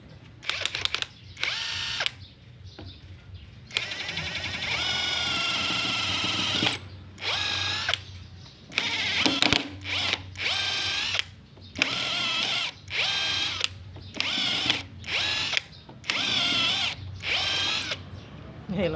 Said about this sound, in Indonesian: Saya akan coba tes di pengeboran ya, karena ini ada bonus bornya, jadi kita tes dulu bornya.